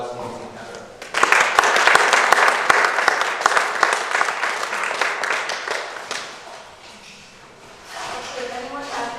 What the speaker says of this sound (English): So if you'll give them a round of applause, Nancy and Heather.